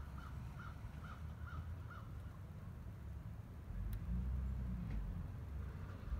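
A turkey perched on a wire on safari near Hoedspruit, South Africa, gives about five evenly spaced, moderately loud calls, followed by a low steady rumble.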